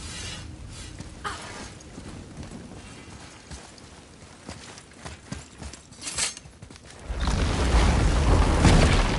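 Scattered horse hoof clip-clops in God of War sound over a noisy game background, then a loud rumbling burst of noise takes over near the end.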